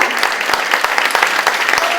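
Audience at a dance gala claps for young dancers marking five years of dance, a full, steady wash of applause with crisp individual claps standing out, loud and close.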